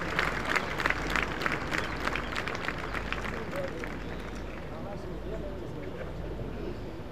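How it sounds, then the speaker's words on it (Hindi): An audience at a 125th-anniversary Founder's Day ceremony applauds a speaker taking the stage, dense clapping that starts loud and crisp, then thins and fades into a softer murmuring crowd. "तालियों से स्वागत करें श्रीमान"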